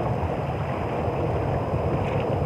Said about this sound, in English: Look, wind blowing so hard.